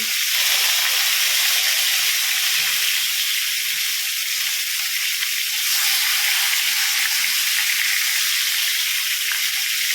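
Milkfish fillet deep frying in hot oil, a loud, constant close-up sizzle and hiss that holds steady throughout with no pauses.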